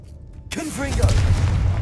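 A Confringo explosive spell from the video game Hogwarts Legacy bursts in with a sudden loud boom after a quiet moment, followed by a rumbling tail and brief vocal effects.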